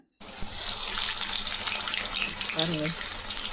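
Urad dal vadas frying in hot oil, a steady close hiss and crackle that starts abruptly and continues throughout, with a faint brief tonal clink partway through.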